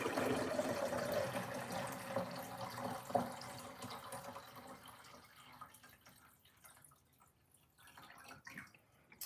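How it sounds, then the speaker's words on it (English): Water pours into a countertop water filter, a steady liquid splashing and trickling that is loudest in the first few seconds, then thins to faint drips and gurgles. "The water filters in this filter, right? I'm going to pour it in here."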